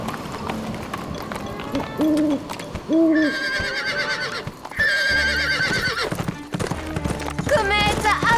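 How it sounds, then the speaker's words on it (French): An owl hoots a few times in a wooded cartoon forest, the calls mixed with horses' clip-clopping hooves, a whinny and busy background music. "Ce n'était qu'un hibou."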